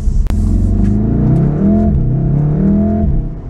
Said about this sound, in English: The car sounds louder.